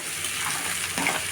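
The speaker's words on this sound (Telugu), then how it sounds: "ఈ ఉల్లికారం పచ్చి వాసన ఎంతవరకు ఇలా ఫ్రై చేసుకున్నామండి." Onion-chilli paste sizzles in a pan over a medium flame, a dense close frying hiss with a brief scrape of stirring near the end.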